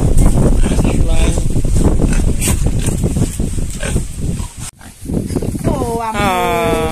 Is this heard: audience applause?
no